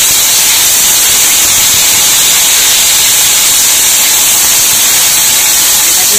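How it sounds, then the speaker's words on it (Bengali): Small cauliflower pieces frying in a pan with ginger and green chilli give a loud, dense, unbroken hiss of sizzling oil, very close and steady throughout, with no talking. "একটু ভাজা ভাজা করবো।"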